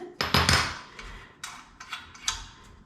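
A line wrench loosening the chain nut on a Schwinn Air Dyne exercise bike, with a few sharp metallic clicks and clinks up close, spaced out over a few seconds.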